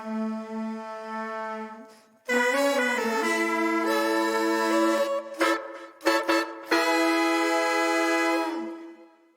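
A homemade ululophone plays a sustained, bright horn-like melody from a song recording. It opens with one long held note, breaks off, then returns with stepped fanfare phrases and short stabs.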